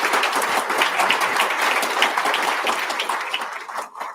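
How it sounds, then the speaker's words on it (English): Steady applause from an audience honoring AMD executives on stage at a financial analyst day, sustained for several seconds before thinning out at the end. "You can feel free to give them a round of applause."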